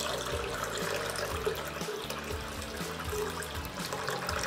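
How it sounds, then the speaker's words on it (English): Water pours steadily into a ceramic water filter, a continuous splashing trickle with some low gurgling, close and fairly loud throughout with no voices. "You pour it in, fill that ceramic filter in, and then you got to wait several hours."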